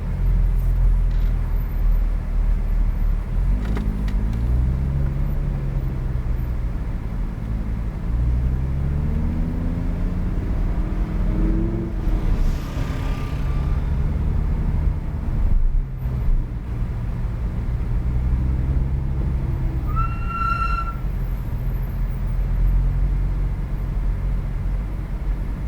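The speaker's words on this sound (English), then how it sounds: "So we're going to roll out with these cars. We're just going to roll out a little slow going around this first corner" Race cars at a track event rolling out slowly around the first corner, a continuous low engine rumble with gentle rises and falls as they pull along, heard from inside one car with no talking.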